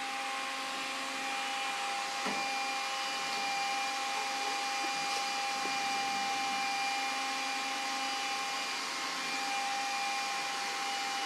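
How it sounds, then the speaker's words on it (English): A vacuum cleaner runs steadily on a rug indoors, a loud continuous whine and hum throughout with no talking. "Will you vacuum the rug over here, Lyndon?"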